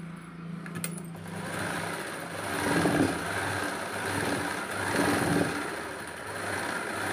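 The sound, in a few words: sewing machine stitching a blouse belt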